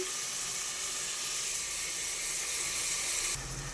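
Tomato and onion sauté in a pan with a continuous dense hiss and sizzle that holds steady up close. It eases slightly near the end.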